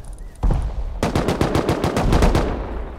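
Rapid automatic gunfire in the video game Rust, a loud close burst of evenly spaced shots after a brief single report, with no talk over it.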